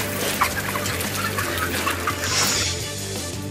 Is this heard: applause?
no